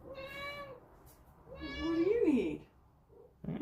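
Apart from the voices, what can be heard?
pet cat meowing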